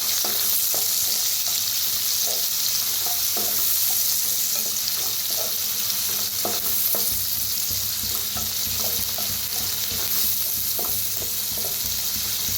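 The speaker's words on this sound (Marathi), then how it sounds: "थोडंसं हिंग, कांदा कापून घेतलेला बारीक, कढीपत्ता भाजून घेऊया कांद्याला चांगला।" Finely chopped onion frying in oil with asafoetida and curry leaves, a constant sizzle broken by frequent clicks and scrapes of a spoon stirring, close and with nobody speaking.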